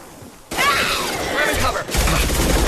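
Weapons fire in the video game Mass Effect 2: a burst of sharp, thumping shots and impacts follows a brief stretch of in-game voice, with the firing continuing to the end.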